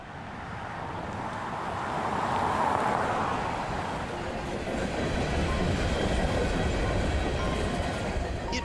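A train rolls through a small Illinois town, its rumble swelling and staying loud and close, with a steady clickety-clack of wheels on the rails as the cars go by.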